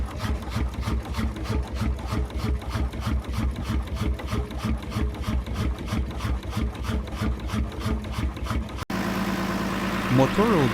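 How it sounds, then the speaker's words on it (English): A Deutz BF6L913T six-cylinder turbo diesel, a 130 hp engine used in farm and industrial machinery, runs with a steady, loud rhythmic knock, then cuts abruptly to a different, quieter background near the end. "BF6L913T, CU o putere de 130 cp turboalimentare, este un motor diesel robust utilizat frecvent in applicații agricole și industriale."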